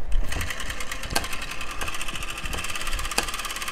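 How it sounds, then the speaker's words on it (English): Ed Gray motor replica running with a steady, rapid mechanical clatter and periodic sharp snapping bursts, loud and close with no voices. "So it sounds kind of like a hit and miss motor"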